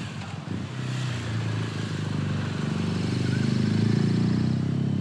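A motorcycle engine drones steadily, rising slightly in pitch as it rides along a road in the Belleville valley, Isère, France, loud and close with wind noise.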